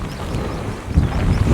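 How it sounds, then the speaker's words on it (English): Gusty wind buffets the microphone at a paragliding launch, a steady low rumble that swells louder toward the end, with no talking. "we're waiting for this wind to go through"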